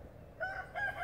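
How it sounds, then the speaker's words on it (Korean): Roosters crow in the morning in a flower and vegetable garden, moderately distant and fairly soft, with two overlapping calls rising one after another. "아침에 꼬꼬댁하고 닭들이 노래를 합니다"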